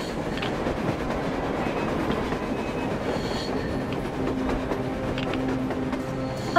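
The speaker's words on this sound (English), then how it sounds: "A train! A damn torp!" A train rumbles past in the post-apocalyptic shooter Metro Exodus during a snowy winter level, a steady heavy roll of wheels and carriages with faint clicking and squealing, loud and continuous throughout with no talking.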